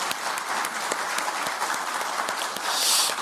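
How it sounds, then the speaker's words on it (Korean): Steady, dense applause from a large audience at a Korean political gathering, many hands clapping together evenly and moderately loud for a few seconds, with a brief louder swell near the end. "고생하신 이재명 대통령께 큰 박수를 부탁드립니다."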